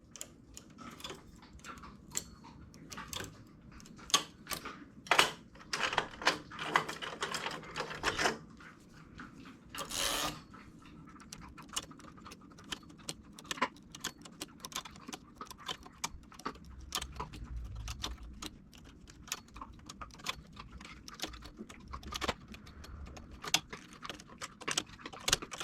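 A knitting machine carriage runs back and forth knitting rows of a double-faced beanie, making a steady pattern of dry clicks and rattling ticks, with a denser busy stretch early on and softer sweeps after.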